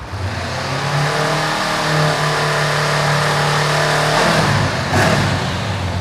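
Revving of a 2020 Honda CBR500R motorcycle on its stock exhaust: a loud, close engine rises and falls in quick throttle blips over a steady idle, with no voices.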